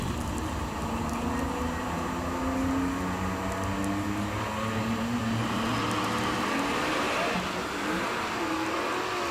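Drag race cars at the Shakedown Nationals coasting down the track after both hit trouble at the launch, a steady, moderately loud engine drone with shifting tones running throughout.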